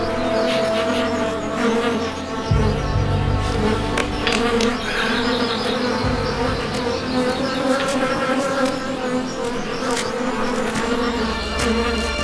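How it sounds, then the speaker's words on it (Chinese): Flies buzz near a patch of freshly turned earth in the countryside, a constant drone with a low rumbling hum underneath that shifts partway through, no one speaking. "能够吸引苍蝇飞过来，一定埋着尸骨"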